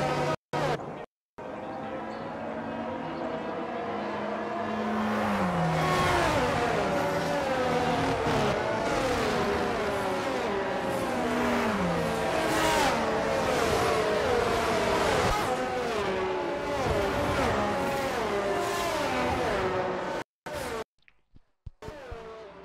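Race cars roar around a track in an F1 sim racing game replay of the Australia race, with steady engine drone and repeated pitch sweeps as cars rev and shift, filling the clip loudly before cutting out near the end.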